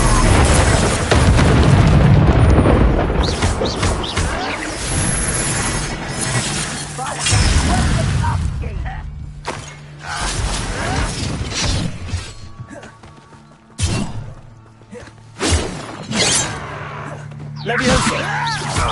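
Spell impacts in Hogwarts Legacy, an Expelliarmus strike among them, land as loud booming, shattering bursts early on, then sharper scattered cracks and thuds, with voices calling out between hits.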